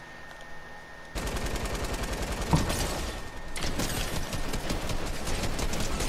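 Rapid automatic gunfire from Fortnite bursts out after a quiet opening second and keeps going in dense, loud, rattling volleys with a sharp louder shot midway.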